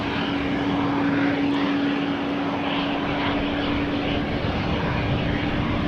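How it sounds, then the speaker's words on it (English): An ITA Airways Airbus A220-300 touches down on runway 22 at Amsterdam Schiphol in rainy weather, its engines a steady, dense roar with a sustained tonal whine throughout, fairly near. "ITA Airways A220-300 has just landed on runway 22."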